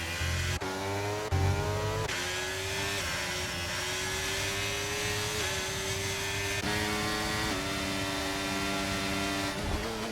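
Formula 1 cars race at Bahrain in a racing game. Several engines whine and rise in pitch, changing through the gears as they pass close by, with a constant loud drone of engines throughout.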